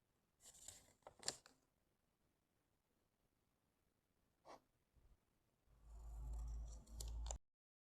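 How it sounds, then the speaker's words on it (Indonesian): Scissors snip paper while a simple 3D teaching model is being made, with a few short crisp cuts early on and a later burst of louder rustling, snipping and handling noise. "Kita gunting lagi di sebelah sini"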